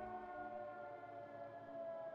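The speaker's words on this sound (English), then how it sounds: "The sirens you hear is because enemy is capturing the base." A base capture siren in the World of Tanks video game wails as a steady, droning tone with layered harmonics, held at an even level throughout without a break.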